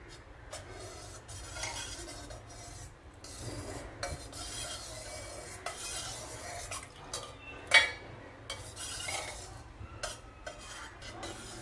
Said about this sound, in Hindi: बस हल्के हाथ से इसको आप चलाते रहें और विनेगर डालते जाए।